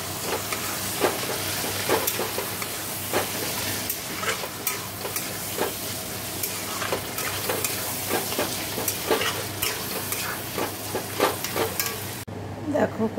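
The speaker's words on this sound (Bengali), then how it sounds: "দেখো ডালটা এই যে ফোড়ন দিয়ে দিয়েছি, সর্ষে শুকনো লঙ্কা" Lentil dal tempered with mustard seeds and dried red chili sizzles and spits steadily in hot oil in a home kitchen, with irregular crackles and pops throughout and a brief drop near the end.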